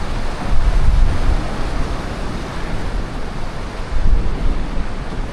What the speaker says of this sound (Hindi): ये किसी लेक से इतना ज़्यादा पानी निकलते हुए मैं तो पहली बार देख रहा हूँ